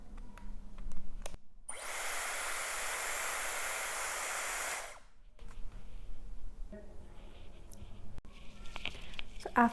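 A gold and nickel Dyson Airwrap hair styler blows air in one steady, loud hiss that lasts about three and a half seconds and then cuts off. Quieter handling clicks and rustles come before and after it.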